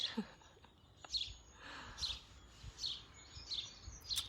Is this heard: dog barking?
no